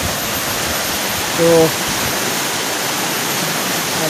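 A swollen, muddy river rushes past a garden after heavy rain, a loud steady broadband roar throughout, with a brief spoken syllable partway in.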